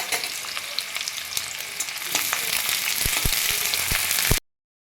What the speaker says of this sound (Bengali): এবার আমি বেরেস্তা করে নেব, তার জন্যে পেঁয়াজটা দিয়ে দিলাম তেল আর ঘিয়ের উপরে।